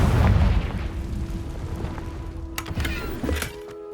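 Confringo spell blast in Hogwarts Legacy, a deep booming explosion at the start that fades into a rumbling tail, followed by a few light pops and clatters.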